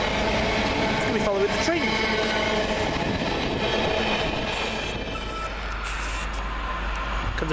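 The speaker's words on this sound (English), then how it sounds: "Comes a Pendolino to London Euston." A Pendolino train heading to London Euston rumbles past the station at Cheddington, a broad, loud roar that holds steady throughout and then eases slightly, with people talking over it.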